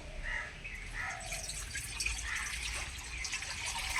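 Water poured in a thin, steady trickle into a pot while preparing rice flour pitha in a home kitchen, a continuous close splashing and dribbling with no speech.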